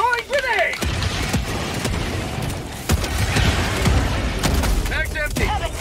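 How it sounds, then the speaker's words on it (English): A grenade blast in a cooperative shooter game booms, followed by more bangs and gunfire under ongoing game noise, with a character's voice calling out over the action near the start and end. "Throwing grenade!"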